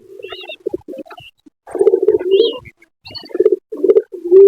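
Pigeons, including white Lakka birds, coo inside a cage in several soft, rolling bursts separated by short pauses, close and clear with occasional higher chirps between calls.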